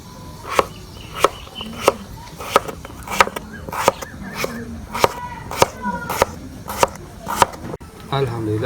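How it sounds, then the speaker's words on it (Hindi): Potatoes being chopped with a knife on a board for chicken pulao: about a dozen crisp, close chops in a steady, even rhythm. "आलू की कटाई है ये अपने हिसाब से भी आप कर सकते हैं।"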